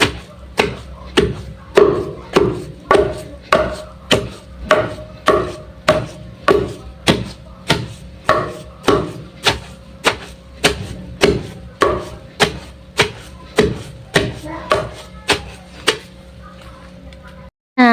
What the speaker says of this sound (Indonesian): Kalau langsung aja dimasukkan ke dalam daun ubi yang sedang kita tumbuk ini